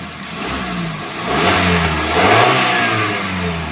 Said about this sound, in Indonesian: Ya, suara mesin tahun 2021 seperti ini, memang dia lebih halus, lebih enak